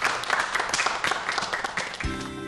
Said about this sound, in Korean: 오늘 좋은 강의 해주신 교수님께 박수 부탁드립니다